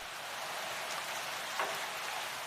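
Heavy rain falls on a gaur herd in Jaldapara National Park, India, making an even, dense hiss of downpour throughout with no voices or animal calls standing out.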